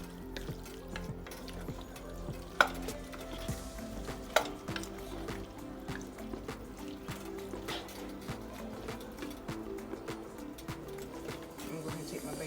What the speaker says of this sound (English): Give that a stir. Just mix everything up together.